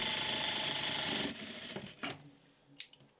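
A sewing machine runs steadily while stitching a stretched waistband onto a patchwork skirt, then stops, followed by a few faint handling clicks.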